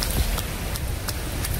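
Heavy rain pours steadily on the day of Ghatasthapana, a dense broadband hiss with a few brief louder gusts, loud and continuous throughout.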